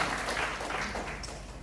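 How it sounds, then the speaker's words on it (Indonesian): Steady church congregation applause, dense and continuous, filling the whole moment at an even level without a clear break. "Ya, tepuk tangan bagi Yesus."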